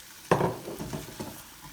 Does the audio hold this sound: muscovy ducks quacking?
no